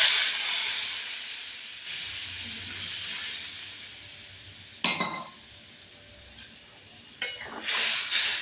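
Water poured into a pan of potato and paneer curry sets off a steady bright steaming hiss that fades slowly, with a few sharp clinks of a utensil against the pan near the end.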